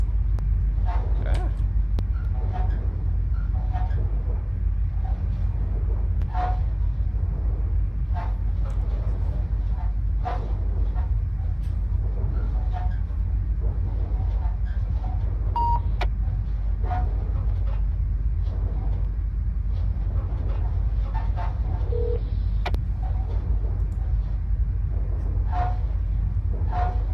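A simulated SD70ACU diesel locomotive runs in Train Sim Classic, a steady low engine rumble and track noise droning throughout with faint periodic clicks and clanks, continuous and even for the whole stretch.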